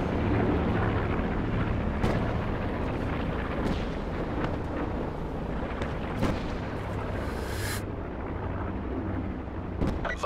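Call of Duty Black Ops 4 Blackout gunfire, with sniper shots cracking now and then over a rumbling battlefield backdrop, medium loud and fairly distant, with no talk.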